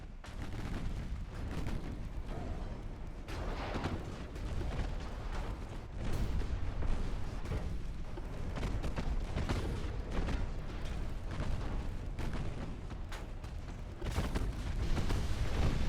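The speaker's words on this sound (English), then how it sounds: "Oh, ammo detonation, baby." Rumbling warship battle from Ultimate Admiral: Dreadnoughts, with the USS Atlanta (CL-51) in action as ammunition detonates, heard as dense, continuous booms and crackling gunfire that stay loud and heavy throughout.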